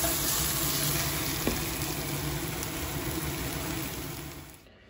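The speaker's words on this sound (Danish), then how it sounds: "Og så er jeg lige ved at lynriste nogle grøntsager, som vi lige også skal have til en stegeskorpe" Vegetables quick-fried in a pan give a steady, loud sizzle for several seconds, with one light clink partway through, before the sound drops away at the end.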